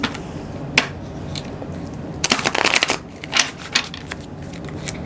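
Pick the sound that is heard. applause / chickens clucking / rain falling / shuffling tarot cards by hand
shuffling tarot cards by hand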